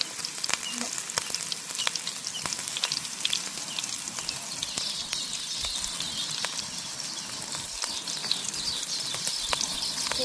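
Mussels fry in hot oil outdoors, Goan style, with a constant crackling sizzle dotted with sharp pops and spits, fairly close and steady throughout.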